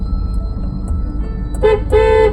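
Two short car horn honks near the end, following a stretch of idling engine rumble during a driving lesson; the second honk is a bit longer than the first.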